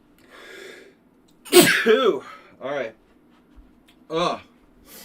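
A person sneezes close to the mic, a sharp burst followed by a few shorter sneezy exhalations and breathy sounds, with light background noise between them.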